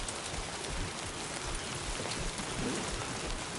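Steady rainfall in the video game Death Stranding 2, a dense, even hiss of drops on surfaces running throughout at moderate level with no voices.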